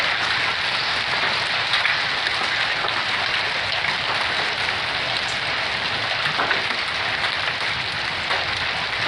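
Dense, steady drumming of hailstones on the roof of a truck in a spring storm along the Rockies Front Range, a loud continuous rattle from inside the cab with no talking.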